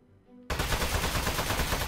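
Loud, dense burst of automatic gunfire in the video game Aperture Desk Job starts abruptly after a brief quiet moment and continues rapidly to the end.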